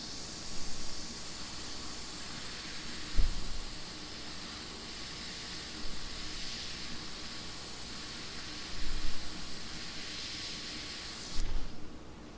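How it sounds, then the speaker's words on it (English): An airbrush blows a steady, soft hiss of air over wet paint to dry it, a continuous close-up rush with a few faint bumps and a brief change near the end. "just blow a steady stream of air over the area that I just put way too much paint down on"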